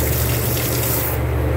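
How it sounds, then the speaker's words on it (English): Hot water gushes steadily from a tap into a sink in a gunsmithing shop during a bluing job, a loud continuous rush that cuts off abruptly near the end. "I'll cut my hot water on."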